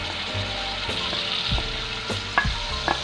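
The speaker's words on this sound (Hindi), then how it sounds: "ये हम टमाटर और प्याज का पेस्ट डालने लगेंगे इसमें।" Tomato and onion paste fries and sizzles with chicken in a pan for Kashmiri chicken matar, a steady close crackle broken by a few scraping stirs, with no talking.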